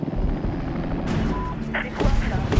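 A helicopter in the war shooter Medal of Honor thrums with a low rumbling rotor drone, joined by bursts of gunfire and explosion-like booms, with a person speaking over it.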